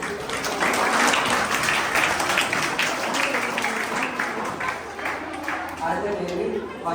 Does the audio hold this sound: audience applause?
yes